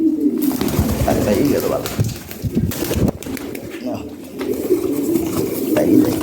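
Pigeons coo close by in low, throaty, repeated calls at a steady pace, with people talking over them and some handling noise.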